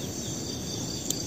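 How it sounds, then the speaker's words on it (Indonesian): Crickets chirp in a steady, continuous high trill, faint and unbroken, with a quiet hiss beneath and no voices. "Gek, itu ada suara jangkrik."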